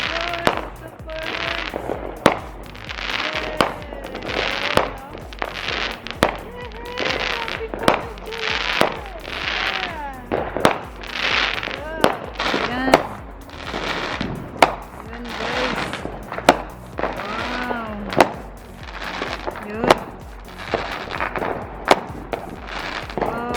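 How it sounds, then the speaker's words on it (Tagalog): Neighborhood Independence Day fireworks on the Fourth of July crackle and bang in rapid, repeated bursts, loud and near, with sharp reports scattered among fizzing volleys and voices heard in between. "Kapag Independence Day, ang dami mga fireworks dito"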